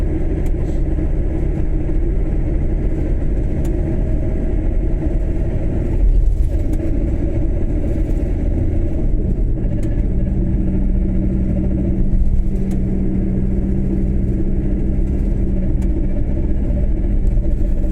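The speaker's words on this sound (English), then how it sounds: "It's a noisy old bus, isn't it?" An old bus engine gives a steady, loud low rumble close by on a motorway in the Falkirk district of Scotland, with a slight swell of revving midway and no talk over it.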